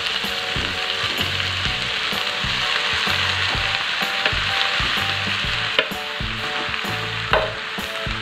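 Rice sizzles steadily in a hot pan for meatball fried rice, a dense frying hiss broken by repeated scraping and stirring strokes of a spatula, with a few sharper clinks near the end.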